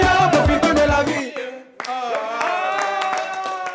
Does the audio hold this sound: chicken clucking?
no